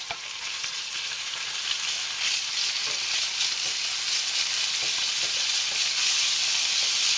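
Meat searing in a hot pan, a steady, dense sizzle and crackle of frying that holds at an even level throughout with no voices.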